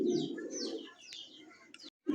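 Two jumbo-sized pigeons coo in low, throaty murmurs that carry steadily through the short stretch, close and moderately loud, with a few faint higher chirps above and a brief silent gap near the end.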